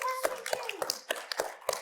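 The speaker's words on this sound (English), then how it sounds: "give him a clap" An audience claps in a sparse, uneven patter of separate hand claps, close to the microphone, while a voice talks over the start.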